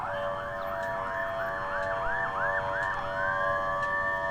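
An ambulance siren in a video game cutscene, a rising-falling wail cycling steadily several times before settling into a long held tone, fairly faint over a low background rumble.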